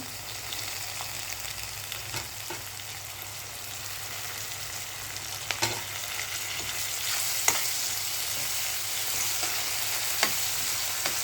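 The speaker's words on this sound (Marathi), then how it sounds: "मग आपण थोडीशी त्याच्यात कोथिंबीर टाकू, ती पण थोडी तेलामध्ये भाजली गेली पाहिजे" Coriander leaves fry in hot oil for upma, producing a steady, fairly soft hiss with a few faint taps of a spoon now and then, heard alone and close.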